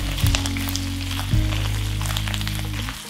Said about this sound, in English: I'm just giving it a little toss in the oil real very quickly